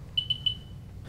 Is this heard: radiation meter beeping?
yes